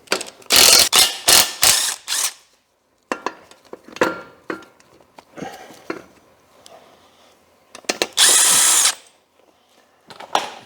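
Bolts being removed from the aircon compressor on a BMW E31 850i V12 engine, with loud bursts of a power tool or ratchet at the start and again near the end, plus clanks and tool handling between them, no talking.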